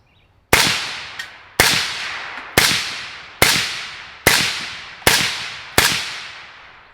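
Seven sharp, loud gunshots from an AK-74 fitted with a Liberty Torch suppressor and solid unvented end cap, fired at an even pace about once a second, each crack trailing off in a brief decay.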